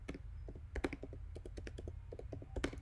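HTML code being typed on a computer keyboard makes a quick, irregular run of soft key clicks, near and quiet, with a few heavier presses standing out.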